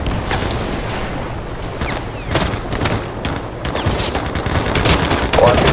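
Dense bursts of automatic gunfire and rattling shots from the Battlefield Mobile first-person shooter, loud and continuous, with bursts layered over each other throughout.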